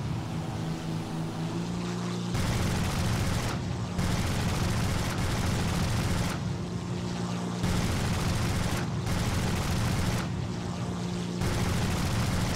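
A front gunner's 7 mm machine gun fires from an aircraft in War Thunder: several long sustained bursts, loud and close, break off and start again over a steady engine drone, with no talk.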